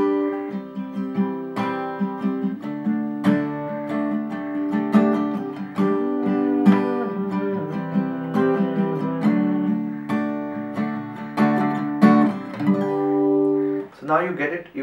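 An acoustic guitar with a capo strums a chord progression in D shape, clear ringing chords in a steady rhythm, close and alone, ending in a short flourish.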